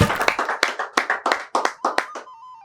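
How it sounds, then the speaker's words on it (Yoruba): A studio audience on a Yoruba-language quiz show gives a brief round of applause: about a dozen sharp, evenly spaced claps over two seconds. The clapping is close and loud, then stops, leaving a faint lingering tone. "Ó dá ẹ bá ń pàtẹ́wọ́ fún un"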